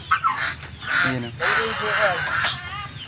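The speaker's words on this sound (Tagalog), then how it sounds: "Maingay yung gansa." Geese on a farm in Tarlac honk loudly and repeatedly in drawn-out nasal calls close by, and someone speaks briefly at the start.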